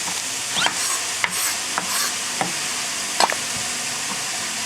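Onion sizzles steadily in oil in a hot pot, with occasional scraping clicks from stirring and no one talking.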